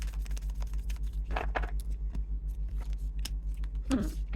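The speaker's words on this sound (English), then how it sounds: "One more shuffle." Oracle cards are shuffled with soft papery riffles and slides, a few brief bursts over a steady low hum, close and quiet.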